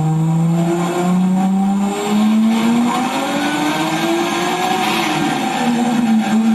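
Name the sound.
car engine revving on a dyno during tuning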